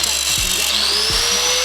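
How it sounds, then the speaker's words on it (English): An angle grinder with a cutting wheel slices out a metal patch meant for a car's firewall, a steady loud high whine running throughout with a rising pitch sweep and two low thumps. "gonna take the grinding wheel and we're gonna cut out this this patch that I'm gonna be putting on top of the firewall"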